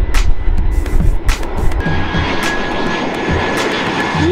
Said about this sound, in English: But where is this plane? Here it comes.